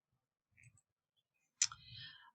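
A computer mouse clicks faintly while a document is being translated, giving a soft short click followed after a pause by a sharper click with a brief rattling tail, in an otherwise quiet room.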